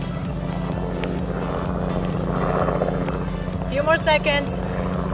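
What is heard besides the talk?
helicopter passing overhead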